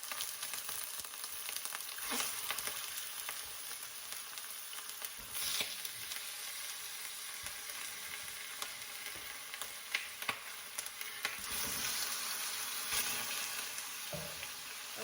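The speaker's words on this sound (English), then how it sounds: "what we need to do is fry this for a few minutes" Charsi karahi in the Peshawar style sizzles and fries steadily in a pan, a constant hiss with scattered crackles and pops rising now and then, close and alone without talking.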